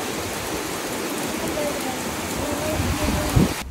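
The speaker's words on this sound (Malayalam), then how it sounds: "വീട്ടിലേക്ക് എത്തിയതും നല്ല മഴ അങ്ങോട്ട് പെയ്തു തുടങ്ങി." Heavy rain pours down steadily and loudly at close range, a dense unbroken wash with a brief thud near the end and no talk.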